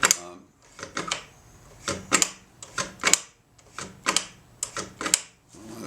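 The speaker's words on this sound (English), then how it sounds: "Milwaukee power ratchet, of course. So snug." A Milwaukee power ratchet snugs a bolt while a handguard is fitted to a 2023 Harley-Davidson Road Glide, letting out short, sharp ratcheting bursts in a loose repeating rhythm, close and fairly loud.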